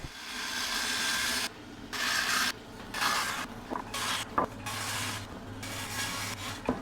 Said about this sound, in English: So now I'll just cut this notch out.